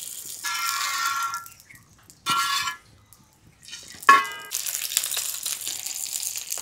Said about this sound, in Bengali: কলা পাতাগুলো ভালোই ফুটছে